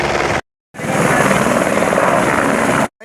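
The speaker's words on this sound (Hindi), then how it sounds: "Hand to hand her 2-3 minute में हेलीकॉप्टर आते रहते हैं।" A helicopter arrives at the Kedarnath helipad, its rotor thudding loud and close in a dense, continuous roar, briefly cut off near the start.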